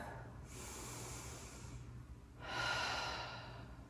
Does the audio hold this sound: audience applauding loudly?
no